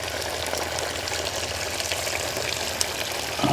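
Duck eggs fry in hot oil with a dense, steady crackling sizzle that holds close and loud throughout.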